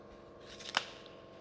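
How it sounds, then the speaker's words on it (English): A pair of scissors snips through a cord inside a tiny home, giving a single quick, crisp cut partway through against a quiet background. "And I got scissors and I can cut a cord."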